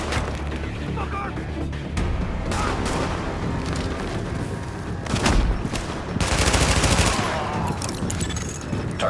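Video game gunfire from Tom Clancy's The Division: dense, sustained bursts of automatic shots with booming impacts, loud and continuous, swelling in heavier volleys, with a voice calling out in between.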